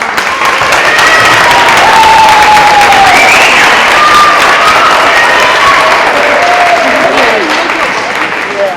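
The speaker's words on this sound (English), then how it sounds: "Let's give them a round of applause." Parents in the audience at a 6th grade band concert give a full, even round of applause, loud and sustained, with a few voices audible within it.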